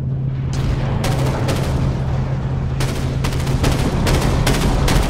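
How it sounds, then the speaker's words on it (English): Rapid bursts of flechette weapon fire from a spaceship in the video game Dreadnought, loud and continuous, with repeated rattling volleys over a steady low engine hum and no voices. "flechettes locked and ready to fire"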